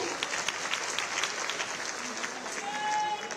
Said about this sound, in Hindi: आप सभी की अनवरत तालियां प्रणाम स्वरूप मंच तक पहुंचे।